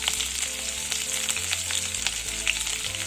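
Mustard seeds, cumin, garlic cloves and green chili pieces sizzling and frying in hot oil in a kadhai, a steady close crackle with small pops throughout.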